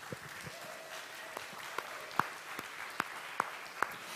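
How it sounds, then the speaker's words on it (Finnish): Applause from a small live audience for panel speakers at a settlement-house event, with scattered sharp claps over a soft, steady patter that never builds very loud. "Heille aplodit tässä kohtaa."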